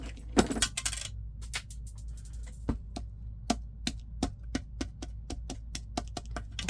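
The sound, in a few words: button falling and bouncing across the room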